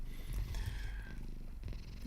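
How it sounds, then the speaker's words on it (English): A cat purrs close by in a soft, low, rhythmic rumble that runs on continuously, with a few faint higher noises over it. "If the cat ASMR gets a bit boring or annoying, let me know"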